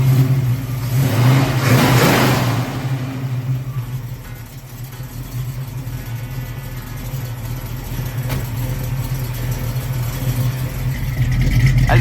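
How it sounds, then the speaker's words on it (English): A car engine with Flowmaster 40 dual exhaust rumbles loudly with a deep exhaust note, swelling in a rev near the start, then settling into a steady, throaty idle. "Flowmaster 40s on it, dual exhaust. It sounds really good."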